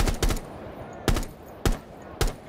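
Gunfire in the video game Rainbow Six Siege: a quick double burst followed by three evenly spaced single shots over quiet room tone, each shot a sharp loud crack.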